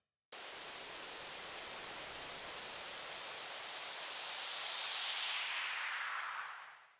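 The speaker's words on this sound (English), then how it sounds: "This works really cool with white noise." White noise from a synth runs through a Bode frequency shifter, making a loud, steady hiss whose brightness sweeps downward over several seconds as the shift slows, before cutting off at the end.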